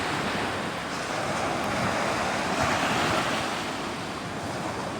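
Sea waves wash ashore at night on Tithal beach, a continuous broad rushing surge that swells slightly midway, loud and close, mixed with steady wind buffeting the microphone and no talk.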